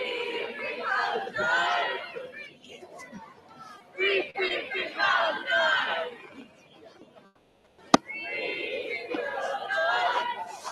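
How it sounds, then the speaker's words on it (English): Protest crowd chanting in rhythmic, overlapping bursts, loud and fairly close, with a brief pause and a sharp knock before the chanting resumes. "I think there's a similar chant on the other side."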